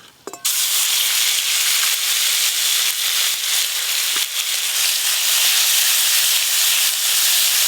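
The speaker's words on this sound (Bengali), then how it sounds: "আলুর দমের জন্য গোটা গরম মশলা, গোটা জিরে ফোড়ন দিয়ে দেবো।" Whole cumin, whole garam masala and a ground spice paste hit hot oil for aloo dum. After a short quiet start, a sudden loud hissing sizzle bursts in and holds steady close up.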